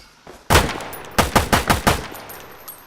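Gunfire from a semi-automatic gun in the Roblox video game: one loud shot, a short pause, then a rapid string of about five sharp shots, each with a brief echoing tail.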